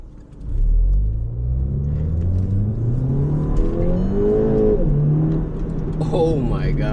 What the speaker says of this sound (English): We're gonna wait for this car to go.